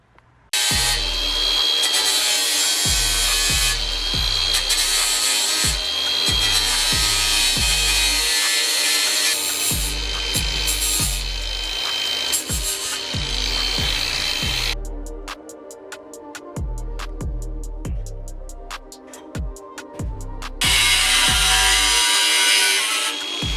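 Power tool grinding and cutting metal on a BMW E28 520i front end, loud and continuous with repeated rhythmic pulses, a harsher higher-pitched stretch in the middle, and no talking.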